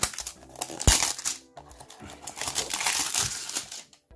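Krosmaster Dofus figurine box packaging being opened by hand, close crinkling and crumpling of plastic and cardboard with a sharp snap early on, then irregular rustling.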